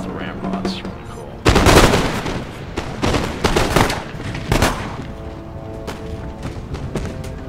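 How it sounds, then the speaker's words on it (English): Musket volleys crack and boom across a battlefield in the video game Empire Total War, several loud bursts of massed gunfire rolling in irregular waves over a few seconds, with lighter scattered shots and game ambience between them. "They're just standing there, just getting shot at."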